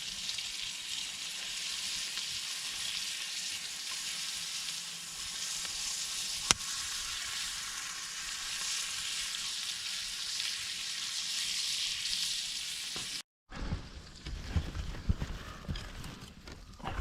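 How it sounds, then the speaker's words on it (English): Sausage and gnocchi frying in a pan over a campfire at a winter bushcraft camp, a steady soft sizzle, faint and continuous, briefly cutting out before a clattering stir. "Okay, gnocchi is cooking. Our sausage is cooking."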